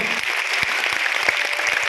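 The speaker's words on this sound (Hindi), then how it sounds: "मैं चाहूंगा जोरदार तालियां देके कैसी बजाते हो आप लोग" An audience at a corporate event claps loudly and steadily throughout, a dense patter of many hands with no speech over it.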